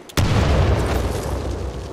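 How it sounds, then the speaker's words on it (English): A grenade blast in the first-person shooter Titanfall 2 hits with a sudden loud boom, then a dense rumbling roar that lingers and slowly fades, with game voices mixed in. "Incoming grenade!"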